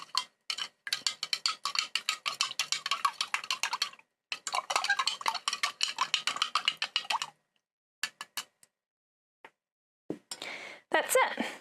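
Salt being stirred into a container of water, a spoon clinking and scraping in quick repeated bursts, close and fairly loud, with pauses between rounds of stirring.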